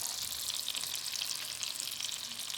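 Oval organic 85% lean ground beef Salisbury steak patties sizzle in butter and olive oil, a bright, crackling fry that stays steady and close throughout with no talk.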